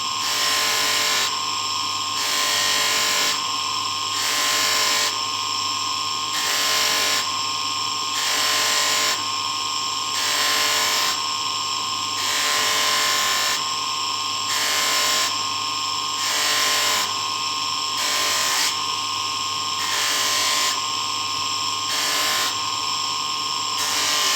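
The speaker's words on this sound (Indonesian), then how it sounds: "Kita pastikan semua area cincin terkena poles semua." A handheld power tool polishes a mokume gane ring, a high whirring drone that rises and falls in regular pulses roughly every second or two as the piece is moved against it, steady and close.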